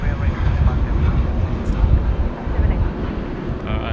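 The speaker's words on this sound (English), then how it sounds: "there's our Vietnam Airlines now coming down Alpha" A Vietnam Airlines airliner taxis along a taxiway at Sydney Airport, heard as a steady, broad jet engine rumble with wind buffeting the microphone and people talking over it.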